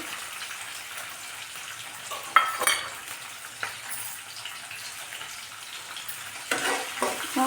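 Green chilies, onion, cumin and mustard seeds frying in hot oil, a steady close sizzle with a few louder bursts of crackle and stirring clatter.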